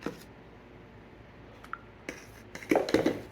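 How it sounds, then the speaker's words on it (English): A whisk clinks and scrapes in a bowl of coconut milk and cornstarch, mostly quiet at first, then a short burst of brisk, louder tapping strokes near the end. "And we're going to whisk this together."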